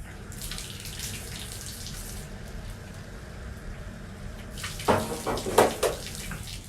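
Steady running diluted shampoo splashes and pours nearby over a Bichon dog, growing louder and more uneven toward the end.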